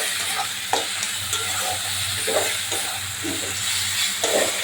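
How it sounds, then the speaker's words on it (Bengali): Ground spice masala of cumin, coriander and garam masala sautés in oil, making a loud continuous close sizzle broken by frequent scraping stirs under a low hum, with no speech. "সুন্দর করে মশলা কষানো হয়ে গেছে, মশলা থেকে তেল তুলে দিয়েছে।"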